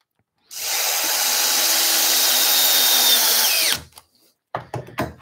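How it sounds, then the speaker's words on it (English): A power drill cuts a pilot hole into wooden chair parts with a loud continuous whir for about three seconds, then winds down and stops, followed by a few light knocks and handling noises. "Pilot drill to stop us splitting the fibres."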